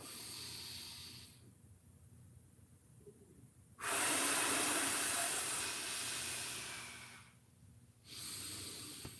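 A big exhale during a stretching exercise, heard as loud breathy rushes of air close to the microphone, one long forceful breath in the middle and another starting at the end, over quiet room noise.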